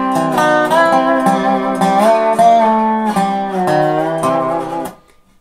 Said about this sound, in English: If I don't do any blocking, this is what I end up sounding like.